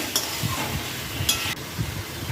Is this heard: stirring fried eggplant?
yes